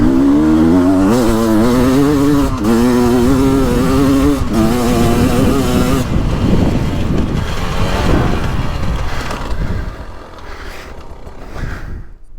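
Two-stroke dirt bike, a 2023 Beta 300 Race Edition or KTM 300XC, accelerating on a woods trail, loud rising engine revs with gear changes, then fading as wind noise and quieter riding take over.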